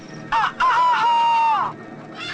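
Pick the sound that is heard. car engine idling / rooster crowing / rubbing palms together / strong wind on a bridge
rooster crowing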